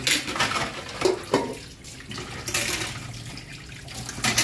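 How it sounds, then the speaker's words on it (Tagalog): Tap water runs steadily into a sink while a frying pan is washed at home, a continuous rushing splash with brief clatters and surges, close and fairly loud, with no talking. "di na hugasan yung kawali. Hugasan din yun."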